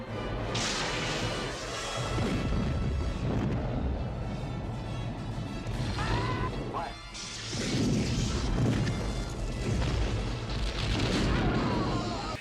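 The starship Reliant takes a hit in Star Trek II: The Wrath of Khan, with crewmen falling through the ceiling, producing loud sustained booming crashes and explosive rumbles in repeated waves, with voices mixed in.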